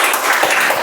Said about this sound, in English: let's have a huge round of applause for that wonderful introduction